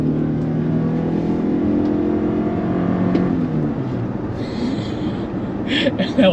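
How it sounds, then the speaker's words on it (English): Toyota RAV4 Prime plug-in hybrid SUV launching hard from a green light, a steady close drone of engine and road noise with a brief high tyre squeal near the end. "you heard the wheels squeal a little bit, and you heard the engine turn on"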